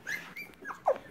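An Airedale Terrier puppy whimpers in short, high, plaintive cries, three or four close whines in about a second, heard up close with no talking.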